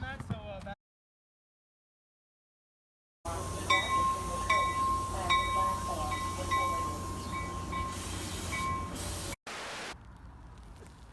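Rumbling train noise at a station founded in 1871, with screeching wheel tones and clanks, loud and close, briefly cutting out; voices talk over it.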